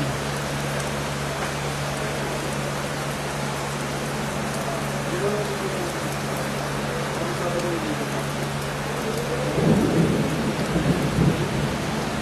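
Steady rain hisses throughout with a constant low hum beneath; a faint voice murmurs briefly, and a rumble of thunder swells near the end.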